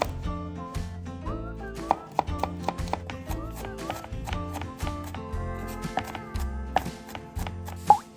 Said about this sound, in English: Cut the fresh Thai peppers into small pieces. Mince the garlic and set aside.